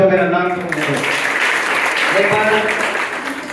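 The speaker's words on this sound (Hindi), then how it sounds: "हमारे मित्र के लिए जोरदार तालियां हो जाए" An audience at a nursing and paramedical college farewell party breaks into dense, sustained clapping that swells and holds steadily, following a brief spoken voice at the start.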